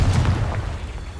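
A Confringo blasting spell explodes in the Hogwarts Legacy video game, a loud, deep boom whose low rumble rolls on and slowly fades.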